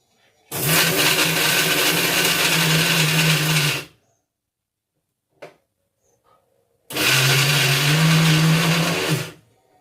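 A mixer grinder blending coconut chutney whirs loudly in two bursts of about three seconds each, with a brief click between them.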